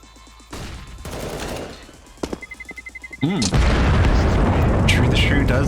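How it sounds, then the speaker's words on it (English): Counter-Strike bomb explosion in an ESL Challenger League match: a sparse run of sharp in-game shots, a rapid ticking sequence, then a heavy boom that swells into a sustained roar, with commentary talk over the top. "BHOP are just going to let the bomb explode"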